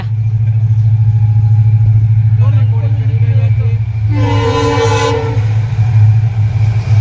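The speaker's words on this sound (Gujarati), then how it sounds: "હાલો ભાઈ, ટ્રેન આવી ગઈ છે." A train arrives at a railway crossing, rumbling past with a steady low engine drone, then a loud horn blast sounds near the end; voices are faintly present in the background.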